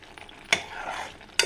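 Butter simmering into ghee in a heavy-bottomed pot, a soft, faint bubbling sizzle with two sharp clinks of a utensil against the metal, close and quiet with no voices.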